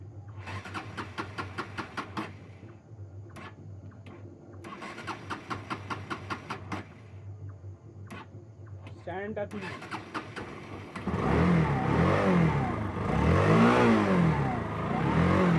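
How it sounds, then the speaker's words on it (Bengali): Bajaj Pulsar NS160 motorcycle on a cold morning, cranking in stuttering bursts before finally catching, then revving loudly and steadily up close, with a voice talking briefly partway through. "তো ফাইনালি আমাদের বাইক অনেক অনেক কষ্টের পরে বাইকটা স্টার্ট নিয়েছে।"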